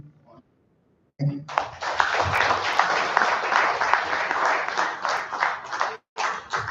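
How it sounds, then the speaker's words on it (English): A crowd at a Rotary International District 9112 membership gathering bursts into sustained applause, dense and loud for several seconds, then stops briefly before the clapping picks up again. "Please let's give the round of applause once again."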